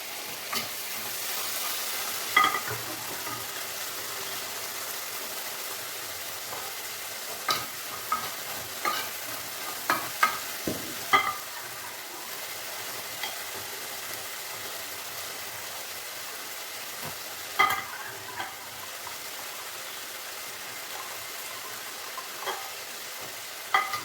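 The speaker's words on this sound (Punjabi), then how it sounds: "ਤੇਲ ਦੇ ਵਿੱਚ ਆਪਾਂ ਛੋਲਿਆਂ ਨੂੰ ਪਾਵਾਂਗੇ ਉਬਲੇ ਹੋਏ" Boiled chickpeas fry in hot oil with a soft continuous sizzle, broken by repeated scraping and clinking as a utensil stirs them in the pan.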